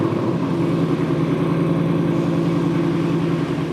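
Ford Mustang Dark Horse V8 idling in quiet exhaust mode with an H/X pipe replacing the resonator, a steady, close, deep burbling drone with even low pulsing and no revs.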